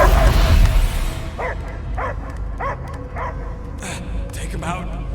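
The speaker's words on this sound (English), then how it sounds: "I hear only barking." Dog barking in the Marvel's Guardians of the Galaxy video game: a series of roughly regular barks and yips, moderately close, over a background game score and ambience.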